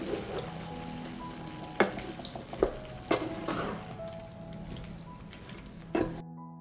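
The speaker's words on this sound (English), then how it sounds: "I will stir and fry for another 5 minutes" Food frying in a pan with a soft continuous sizzle, broken by several sharp scraping knocks as it is stirred at irregular intervals, close and moderately quiet.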